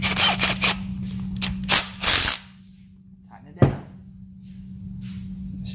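A ratchet tightens a bolt on a 4G63 engine: quick clicking strokes up close, then a pause and a single sharp clack, over a steady low hum. A voice talks in the background.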